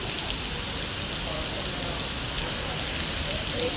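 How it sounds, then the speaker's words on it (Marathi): Heavy, persistent rain makes a continuous broadband wash with scattered sharper drop hits, steady and fairly loud, a voice murmuring faintly beneath it. "पाऊस काय थांबायचं काय नाव घेत नाही."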